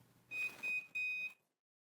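A heat press timer gives three clean, high electronic beeps in quick succession, the last held longer, alone and fairly quiet.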